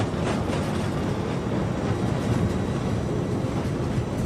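In a flight simulator game, the engines of an Airbus A300 roar in a steady, loud, broadband rush with thrust reversers engaged on landing, and no talking is heard.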